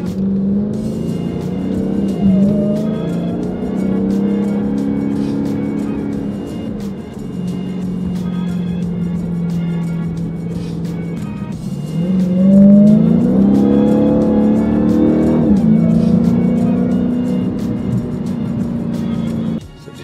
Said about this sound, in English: did you hear that whine of the supercharger?